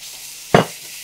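Ground pork going into a hot pan for dan dan noodles lets out one sudden loud sizzling hiss that fades over about half a second, with no talking.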